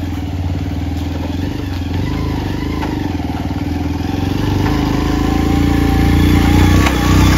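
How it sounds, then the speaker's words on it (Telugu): Motorcycles ride along a rough forest track with a loud, close engine drone that rises gradually. Rattles and clatter from the bumpy ground run through it, and no one speaks. "అసలు బైక్స్ కూడా రావడం చాలా ఇబ్బందిగా ఉంది"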